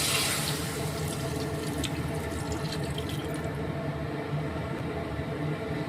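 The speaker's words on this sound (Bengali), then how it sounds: "এবার পর্যাপ্ত পরিমাণে পানি দিয়ে দেবো।" Water pours steadily into a cooking pot, a continuous close rushing splash that holds throughout.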